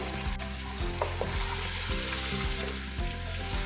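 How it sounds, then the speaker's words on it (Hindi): Camel meat and two large bones fry in oil in a pot for nihari, a loud steady sizzle with rhythmic stirring scrapes recurring about once a second, close up with no voices. "गोश्त को फ्राई कर लेंगे। ये मैंने 2 बड़े साइज की हड्डियां ली हैं, इसको भी ऐड कर देंगे।"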